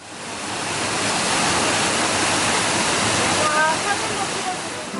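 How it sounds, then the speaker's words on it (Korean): Steady, loud rush of a waterfall fills the whole clip, a dense broadband roar with no pauses. "돈이 아깝지 않을 만큼 입구부터 폭포가 우리를 맞아준다"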